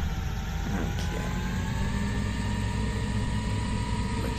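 A sturdy tractor engine drives steadily in a realistic farming video game, its loud, continuous mid-pitched drone holding close and constant with a faint rise in revs throughout, with no talking over it.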